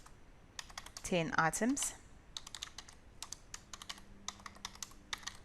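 Light, quick clicking of keys on a computer keyboard while working in Excel, irregular bursts of taps at close range, with a person speaking briefly near the start.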